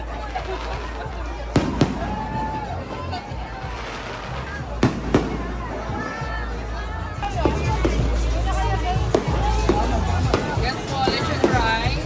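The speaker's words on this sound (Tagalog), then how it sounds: "may paputok pa dito" Firecrackers burst in sharp, irregular bangs, some loud and close, over a busy crowd murmur with people talking at a night street food market in Sampaloc, Manila.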